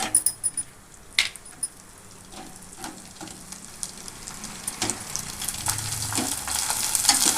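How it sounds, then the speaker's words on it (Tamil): Onion vathal made from rice flour frying in hot oil: a continuous crackling sizzle that grows busier and louder over time, with a few clinks near the start and no talking. "எண்ணெய் நல்லா காஞ்சிருச்சு இப்போ நம்ம வத்தலை போடலாம்"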